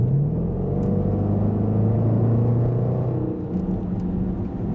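A Range Rover SVR tuned by Urban Automotive accelerates, its engine giving a loud, steady low rumble that holds throughout with no talking over it.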